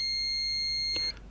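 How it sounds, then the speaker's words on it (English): A quiz sound effect gives a steady electronic buzzer tone, held evenly and fairly loud before it cuts off abruptly, followed by a brief soft thump and low room noise. "There will be a low buzzing sound for you to answer over the top of, like this."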